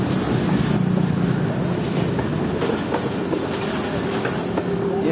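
A cargo train rolls through Rahim Yar Khan railway station, its wagons rumbling loud and steady for the whole stretch, with faint wheel clatter and an occasional squeal.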